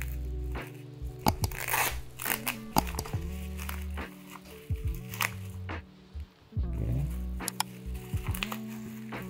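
A package wrapped in bubble wrap and clear tape being opened up close, with crinkly plastic rustles, tearing and crunching bursts in uneven spurts alongside steady low hum.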